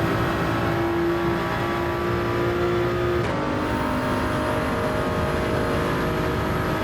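A Toyota Supra in Gran Turismo 7 runs with a steady, loud engine drone and road noise throughout, a brief shift in tone midway as the car brakes, and no voices over it.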